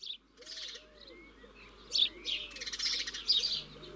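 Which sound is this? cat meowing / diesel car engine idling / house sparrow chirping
house sparrow chirping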